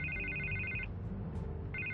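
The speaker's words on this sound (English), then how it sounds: "I can't get the phone to stop ringing." A telephone rings in the Batman Telltale Series video game: two electronic trilling ring bursts separated by a short pause, clear and close over a low background hum.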